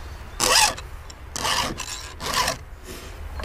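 Three slow strokes of a file rasping against a chainsaw chain, harsh metallic scraping with short pauses between, close up.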